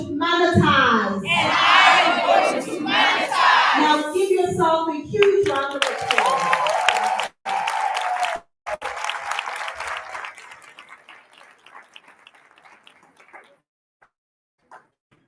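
Audience at a business workshop in Soweto claps and cheers with lively voices, the applause then continuing alone and fading away to silence.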